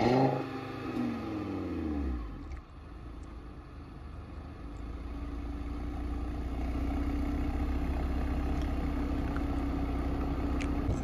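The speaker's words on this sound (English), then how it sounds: "This is the launch sound." A 2019 Audi RS3 builds up in a launch: engine note sweeping upward over the first two seconds, a brief dip, then a steady loud, sustained rev held through the rest, close by with no talking.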